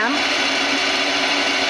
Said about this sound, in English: This is the main spindle at 1000 RPM.